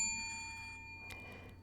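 A small bell rings once as a notification sound, a bright ding that rings on and slowly fades into quiet, followed by a faint brief clink near the end.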